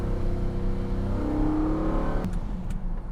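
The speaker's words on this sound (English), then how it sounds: "The engine sounds good, but it's not better than an SV." A Lamborghini Diablo VT engine drones loudly from inside the car, its pitch climbing gradually under acceleration before dropping off sharply near the end, as if with a gear change or lift-off.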